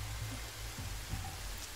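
Steady rain hiss in the VR version of Horizon Zero Dawn, a continuous even wash of falling water with low rumbling movement beneath and no talking.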